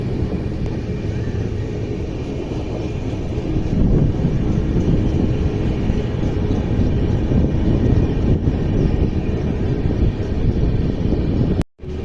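Hassan–Solapur Express, train number 11312, crawling along very slowly, a steady low rumble and rattle heard from on board, loud and continuous, with a brief dropout near the end.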